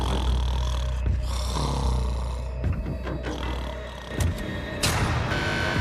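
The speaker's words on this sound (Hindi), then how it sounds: "वो स्टूपिड कॉप सारी रात खर्राटे मारता रहा।" A police officer snores loudly through the night in a prison cell, a steady rough rumbling drone with a few brief snorting swells and faint knocks.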